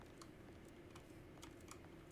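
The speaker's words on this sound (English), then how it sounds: "I'm touching your typewriter." Typewriter keys in the video game Alone in the Dark are struck in a quick, irregular run of light clicks over a low, steady background hum, faint and close, with no talking.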